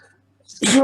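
A single abrupt, loud sneeze bursts out at the end after near silence, with a brief breathy intake just before it, in a close indoor setting.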